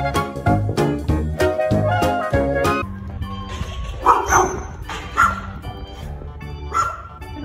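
A stray street dog, met while people hand out food to street dogs at Christmas, fires off a rapid run of close, sharp barks, then turns to softer yips and whimpers.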